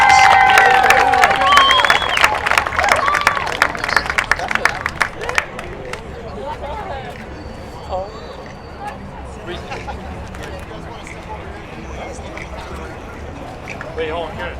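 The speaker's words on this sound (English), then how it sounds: "Let's give a big round of applause." A crowd claps and cheers loudly at a women's college soccer championship, the applause thinning into scattered claps and murmuring voices.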